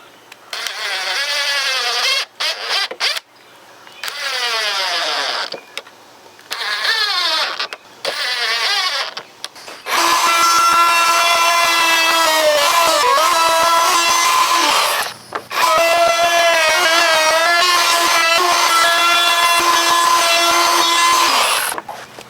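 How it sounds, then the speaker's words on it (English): A power drill whirs in several short bursts, pitch rising and falling, then runs in two long sustained passes boring pilot holes into 2x4 wood. "I'm just going to drill some pilot holes."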